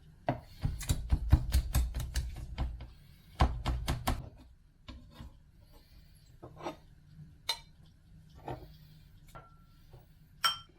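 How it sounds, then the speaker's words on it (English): A knife rapidly mincing raw tuna for sushi on a cutting board, a fast run of crisp knocks at first, then another quick burst, then sparser single taps, close and clear with no talking. "You saw me mince up some tuna."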